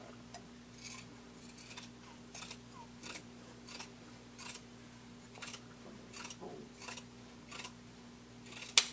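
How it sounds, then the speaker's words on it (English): Scissors trim the seam allowance of sewn fabric for a blanket coat, giving a steady series of about a dozen crisp snips at a regular rhythm, close and quiet, with a sharper click at the end. "Once you're done sewing, you're going to go ahead and trim this to 3/8 of an inch"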